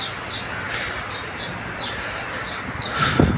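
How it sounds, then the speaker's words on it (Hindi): Small birds chirp and tweet in repeated short bursts along a city street in Islamabad, set against a steady bed of traffic and street hum, with a brief louder knock near the end. "जो चिड़ियाँ हैं वो चहचहा रही हैं, उनकी आवाज़ें आप सुन सकते हैं।"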